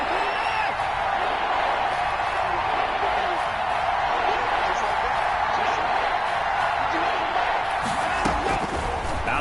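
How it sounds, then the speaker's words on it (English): A football stadium crowd roars steadily during an NFL playoff game, Browns versus Texans, on a big third down, with a dense, continuous wall of cheering and a slight swell near the end. "the crowd getting into it as we come up on a big third down"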